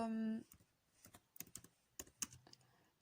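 Typing on a computer keyboard: a brief voiced tone at the start, then scattered, irregular key clicks, close and fairly quiet, in short bursts.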